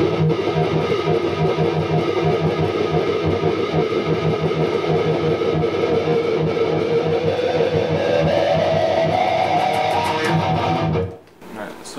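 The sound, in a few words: electric guitar chord with wah pedal intro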